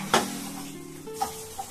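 Finger sweet gathiya frying in oil, a soft bubbling sizzle with a couple of brief utensil clinks against the pan, close and moderately quiet.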